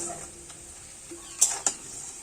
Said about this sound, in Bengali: ভালো করে পেঁয়াজটা এখন ভেজে নেব।